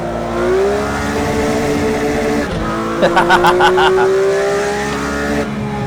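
Porsche GT3 RS engine drifting in a racing video game, a loud, steady rising engine drone through a corner with a brief dip and a burst of rapid rasping pops midway, continuous and close.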